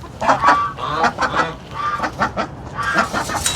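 Hens in a backyard chicken coop at home cluck and squawk repeatedly in an irregular, busy chatter. The calls are close and fairly loud, with no talking over them.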